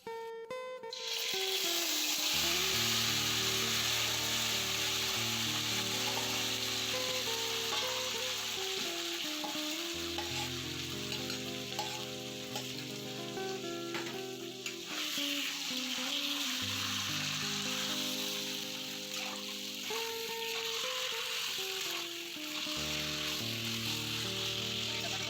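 Marinated chicken frying over a low flame with coriander seeds in the pan, a steady loud sizzle and hiss lasting throughout, broken by occasional stirring scrapes, no voices.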